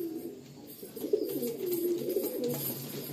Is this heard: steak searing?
no